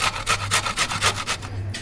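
Peeled raw banana grated by hand, giving a close, steady run of about seven rhythmic rasping strokes that come quickly one after another, with a short gap near the end.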